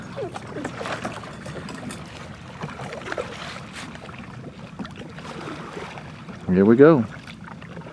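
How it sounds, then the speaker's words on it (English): A kayak paddles through water on a public-land mallard duck hunt, with gentle trickling strokes and wind under a brief spoken voice and a louder splashing burst near the end. "We're kayaking in."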